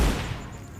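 Gunfire in PUBG Mobile during a solo-versus-squad match: a short burst of shots up close, loud at the start and tailing off into a rattling decay, with no talk.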